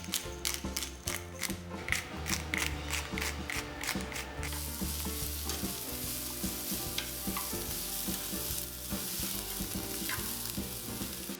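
Cabbage and radish seasoned with salt and pepper are stir-fried in a pan. A quick rhythmic run of utensil scrapes and clicks gives way to a continuous close sizzle.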